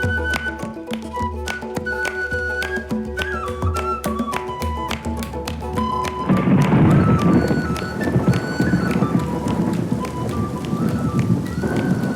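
Steady rain patters continuously, growing heavier and more rushing about halfway through, with no voices over it.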